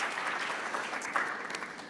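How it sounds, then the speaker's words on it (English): Audience applause at a conference session, a dense, steady patter of many clapping hands, fairly close and sustained for the whole stretch without speech. "a round of applause"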